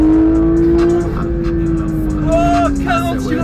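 A vehicle engine sound effect holds a steady, loud drone whose pitch sinks slightly, then a second, brighter engine tone rises and falls briefly near the end, with someone talking over it.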